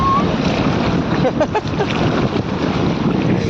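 Loud, steady roar of big sea waves surging and crashing onto a beach, with heavy wind buffeting the microphone and children's voices faintly mixed into the surf.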